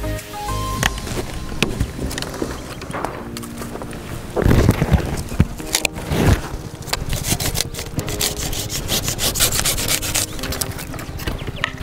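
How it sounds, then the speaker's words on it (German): Hand saw cutting through elder branches outdoors during pruning, steady rasping strokes with louder bursts of sawing, close and fairly loud. "schneiden wir ihm jetzt auch wieder verbleibende zweijährige Zweige"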